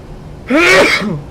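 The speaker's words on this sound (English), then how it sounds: "As if I just sneezed." A single loud, close sneeze bursts out with a sharp onset and a brief voiced tail.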